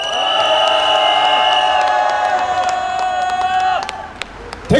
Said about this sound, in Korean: 여러분 동의하시면 힘차게 함성과 박수 한번